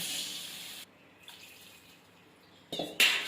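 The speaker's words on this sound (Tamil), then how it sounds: "தண்ணி சேர்த்துக்கலாம்." Water runs and splashes from a tap into a cooking pot of vegetables in a steady stream, stops briefly, then resumes with a louder gush near the end.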